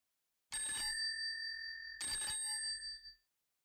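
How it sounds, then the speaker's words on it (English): Two bright ringing bell strikes, one after the other, each leaving a clear metallic tone that lingers, ring out as a doorbell on a quiet street. "Then suddenly she ran across the road and rang Holmes's doorbell"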